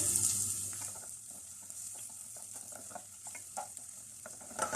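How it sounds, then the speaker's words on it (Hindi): Finely chopped onion sautés in oil in a saucepan, a steady soft sizzle with scattered stirring scrapes and clicks throughout, moderately quiet and close, with no talking. "इस प्याज को इसमें सौते कर लेते हैं।"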